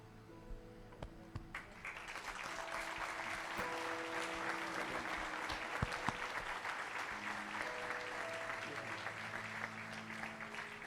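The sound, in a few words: church congregation applause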